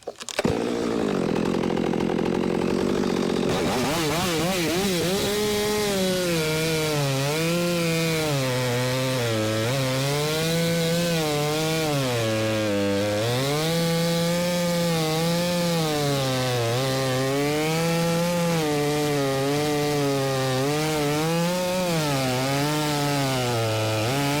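A Stihl 462 chainsaw saws steadily into wood, its engine revving loud and near for over twenty seconds, the pitch rising and falling as the chain digs in and eases off.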